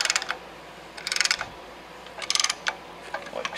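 A hand ratchet clicks in short bursts as a tool compresses a brake caliper on a 2018–2023 Toyota Camry, with small groups of crisp, close clicks separated by brief pauses.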